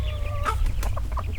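Delaware broiler chickens cluck in a short burst of close, overlapping calls above a steady low background hum.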